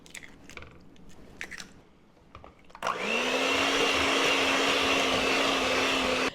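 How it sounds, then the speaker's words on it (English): After a few light clicks and taps, an electric mixer starts up. It beats eggs into pumpkin bread batter with a loud, steady motor whine and a whirring churn that holds to the end. "The eggs one at a time and beat after each egg."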